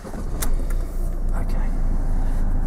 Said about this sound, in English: start the car in the normal way